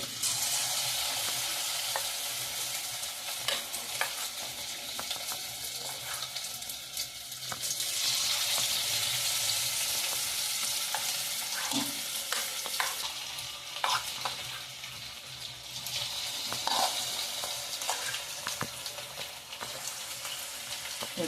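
Chicken pakoras in a cornflour and gram flour batter frying in oil, a loud, dense crackling sizzle that runs on throughout, with scattered pops and small clatters on top.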